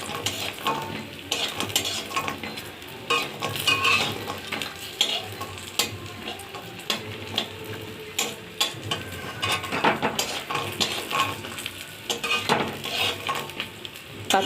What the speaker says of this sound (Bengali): এবার আমি একটু বড়িটা ভেজে নেব